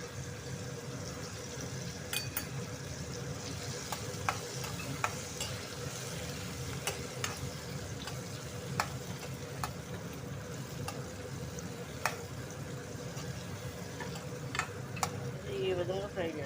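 Dry red chillies and garlic crackle steadily in hot oil while being stirred, a continuous close sizzle with scattered sharp ticks of the spoon against the pan.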